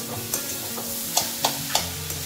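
Grated carrot halwa with added sugar is stirred in a pan, a soft cooking hiss underneath a few distinct scrapes and clacks of the spoon against the vessel, close and unaccompanied by speech.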